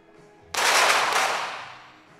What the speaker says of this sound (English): Good shooting from Fabian and Mohammadi